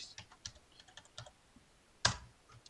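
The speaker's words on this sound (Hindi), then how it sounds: "क्लिक करने के बाद यहाँ पर आपने कुछ भी सर्च कर लेना है, जैसे मैं सर्च कर लेता हूँ दानिश" Someone types a search query on a computer keyboard in a web browser: scattered quiet key taps, then one sharp, louder keystroke near the end, close and alone with no talking.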